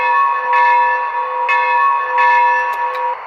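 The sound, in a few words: steam locomotive bell from Maxx Traxx digital sound system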